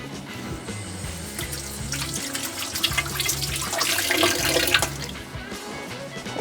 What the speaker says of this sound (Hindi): और हाथ धो लेते हैं पहले।